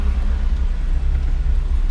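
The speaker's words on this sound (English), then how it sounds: "when you come to a stop, make sure the engine ticks over correctly." A used car's engine idles at a stop, a steady low rumble close by with no other sounds over it.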